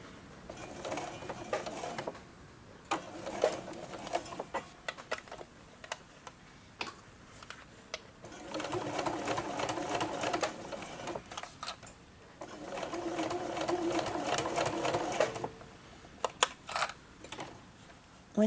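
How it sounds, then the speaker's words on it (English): A sewing machine stitches around the binding of a fabric glasses case in several separate bursts of rapid, close whirring, with short quiet pauses between runs. "We're going to sew all the way around, and we just sew until we get to the very end of the binding."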